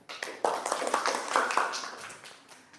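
Classroom applause for a classmate who led the singing of Indonesia Raya, a burst of scattered hand claps from a small group that starts abruptly and trails off over a couple of seconds.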